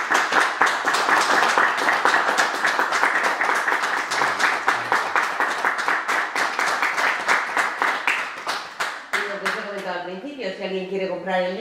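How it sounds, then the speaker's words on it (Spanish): Sustained audience applause at a book presentation, loud and dense with steady clapping, tapering slightly before a voice begins speaking over the fading claps. "le damos un buen aplauso"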